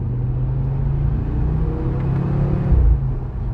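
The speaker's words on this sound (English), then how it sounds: "This tone, the 5-cylinder tone, is literally unreal." Audi RS3 8Y five-cylinder engine with a deep, bassy exhaust rumble, steady and close, swelling briefly near the end, with no talking.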